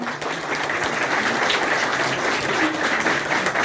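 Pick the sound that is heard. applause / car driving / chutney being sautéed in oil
applause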